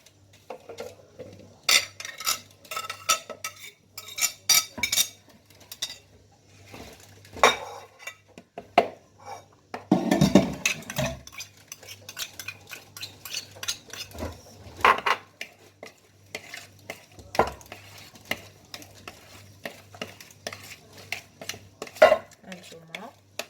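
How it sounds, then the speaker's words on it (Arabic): A utensil scrapes and clinks in a bowl while a carrot and beetroot salad is mixed, irregular close stirring knocks with occasional louder clatters and some quiet talk. "خلطنا كلشي"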